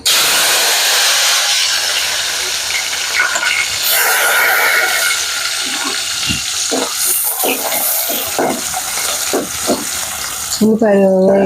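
Onions sizzle steadily in hot oil in a pan while cooking biryani, a continuous bright hiss with occasional clinks and stirring, a voice talking faintly over it.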